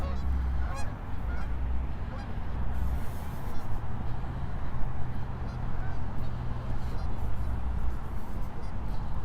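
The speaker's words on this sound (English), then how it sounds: "Lots of geese there. There they go by." A flock of geese honks continuously, many calls overlapping at a moderate distance, with a steady outdoor background.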